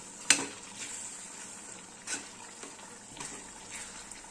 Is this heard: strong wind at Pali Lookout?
no